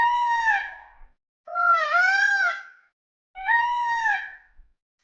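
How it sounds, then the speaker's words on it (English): A peacock gives three loud, wailing screams, each a drawn-out nasal call about a second long, separated by short silences and heard clearly on their own. "A peacock screams."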